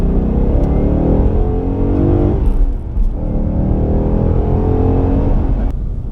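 Ford Mustang GT pulling hard through its gears, a loud, steady engine roar that rises in pitch, dips briefly at a shift near the middle, then climbs again, heard from inside the car with no talking.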